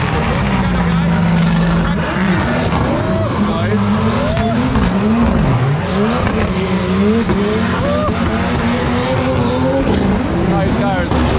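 Race cars at Ferropolis in tricky, damp conditions, their engines roaring loudly and continuously with rising and falling revs as they pass. Tyres squeal at times.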